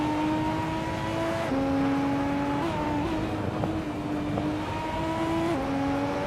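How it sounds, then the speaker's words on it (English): Racing cars in a video game, among them a 2019 IPS Kuruma, drone continuously with sustained engine tones that shift pitch as gears change, a steady loud roar with no talk. "Zots Fight is driving a 2019 IPS Kuruma and is currently in 3rd place"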